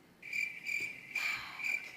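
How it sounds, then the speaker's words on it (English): Crickets chirp in four rapid bursts, a steady high trill that is loud and close, with no other sound. "Crickets?"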